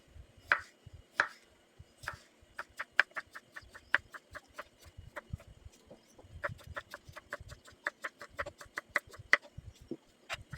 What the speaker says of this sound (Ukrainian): І наріжемо туди наші огірочки.